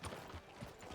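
Horse hooves clip-clopping in Red Dead Redemption 2, a few soft, quick thuds in an uneven rhythm, faint and brief.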